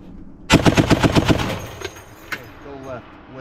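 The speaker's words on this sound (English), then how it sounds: "Relax, it's just a machine gun" Machine gun firing a short rapid burst of about eight loud close shots at a shooting range, followed by a couple of single reports and a person speaking over the ringing aftermath.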